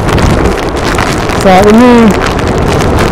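Strong wind buffets the microphone on a cold stretch of the Western Australian coast, a constant heavy roar, with a brief voice speaking partway through.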